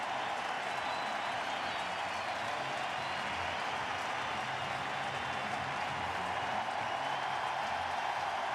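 A baseball crowd at a San Francisco World Series game applauds a departing pitcher, giving sustained, broad clapping and cheering from a large stadium audience at a steady level.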